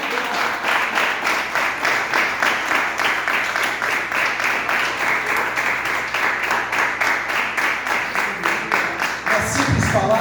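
A church congregation claps together in a steady, rhythmic beat during a morning worship service, loud and sustained for about ten seconds, with some voices mixed in near the end.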